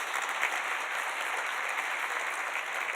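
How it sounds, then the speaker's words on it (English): A conference audience claps in sustained, dense applause, a steady wash of many hands at even loudness throughout, fairly close, with no voices standing out. "let's give everybody a big round of applause"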